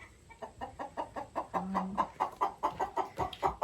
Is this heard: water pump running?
no